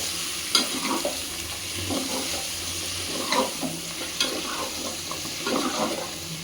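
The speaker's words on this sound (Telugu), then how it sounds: "మటన్ అంతా ఫ్రై అవ్వాలండి" Mutton fries in a pan while being stirred, a moderate continuous sizzle broken by irregular scraping and clattering strokes of the spoon, close and without any talking.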